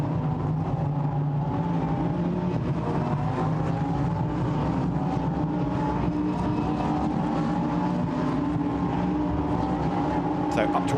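Lamborghini Super Trofeo race cars accelerate at Silverstone, their engines whining steadily and rising in pitch at mid-distance under continuous commentary.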